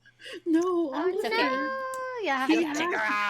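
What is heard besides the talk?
cat meowing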